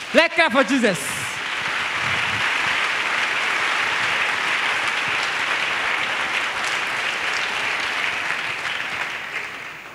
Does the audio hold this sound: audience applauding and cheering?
yes